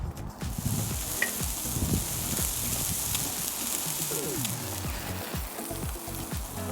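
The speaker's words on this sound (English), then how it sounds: "I'm just looking to get a nice sear, a really good char on this" Food sears on a hot grill with a dense, continuous hiss and crackle, steady and close, with faint low rumbling underneath and no voices.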